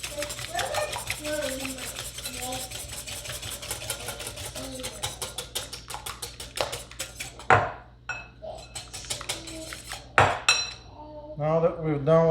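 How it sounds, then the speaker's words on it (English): Whisking ingredients in a bowl for honey cookies, giving rapid rhythmic clinks and scrapes of a whisk against the bowl over low kitchen hum, with a few louder knocks near the end. "we're gonna go ahead and whisk them before we add anything else in there"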